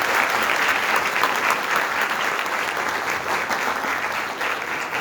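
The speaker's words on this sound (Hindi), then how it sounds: "हम सब वेलकम करेंगे इनको तालियां बजाकर।" A church congregation at a Sunday worship service claps steadily to welcome guests, a dense, even wash of hands that stays loud and unbroken from start to finish.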